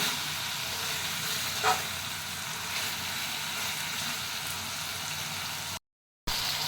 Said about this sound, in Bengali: তো এখন আমরা একটু বেশি করে নাড়বো ঘন ঘন, না হলে কড়াতে লেগে যেতে পারে।